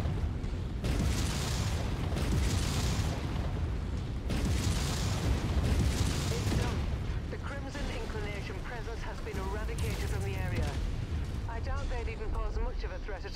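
Chain-fired mech weapons in MechWarrior 5 go off as heavy booming explosions, several large bursts in a row followed by rapid crackling impacts, loud and dense with a voice talking over parts of it.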